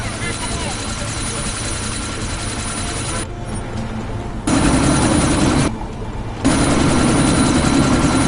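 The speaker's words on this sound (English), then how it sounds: "That chopper's about to take off!" Helicopter rotor and engine roar in Deus Ex: Mankind Divided as the chopper prepares to take off, a loud steady thrum that cuts out briefly twice and returns heavier, with voices over it.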